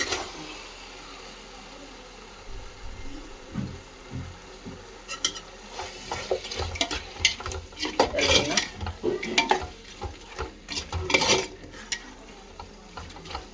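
Marinated chicken is stirred into an onion-tomato masala for chicken biryani, a spoon scraping and clattering against the pan in uneven bursts over a soft sizzle, close up and with no talking.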